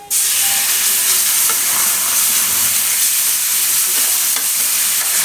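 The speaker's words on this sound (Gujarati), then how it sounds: "મિક્સ કરી લેવાનું એકદમ લગાતાર આને આ રીતે હલાવતું રહેવાનું" A curd, turmeric, coriander-cumin and chili mixture with capsicum for besan capsicum shaak hisses loudly and steadily in a hot pan while being stirred constantly, with a few soft scrapes over the dense, close sizzle and no voices.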